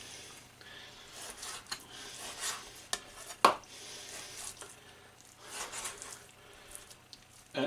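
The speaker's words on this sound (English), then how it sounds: "Observe the way the grain is going on the beef and cut across it." A knife works through raw rump steak on a board, cutting across the grain into very fine strips: soft repeated scraping and tapping strokes, close and quiet, with one sharper knock partway through.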